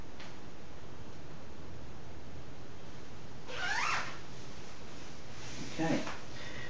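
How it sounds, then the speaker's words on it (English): A North Face Verto Wind jacket, size large, being zipped up: two short, quiet zipper runs a couple of seconds apart, close by, over a steady hiss. "I'll go ahead and zip it up here."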